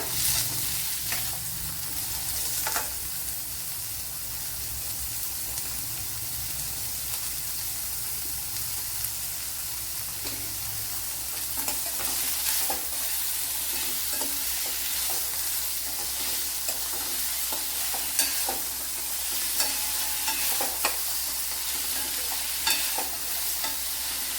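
Onion and salt fry in a pan for Kerala-style cooking, a steady bright sizzle carried throughout with repeated scraping stirs of a spoon, close and continuous.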